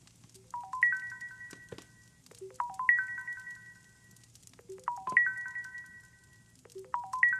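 A mobile phone ringtone sounds as a home call comes in, a bright repeating melody playing in three or four clear bursts over a low background hum, with no talking.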